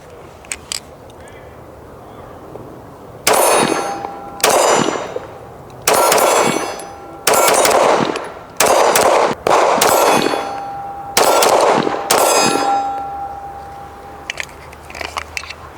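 Girsan 2311 Match X pistol firing at a steel target outdoors, seven loud sharp shots spaced about a second apart, each followed by a ringing metallic clang, with faint clicks before and after.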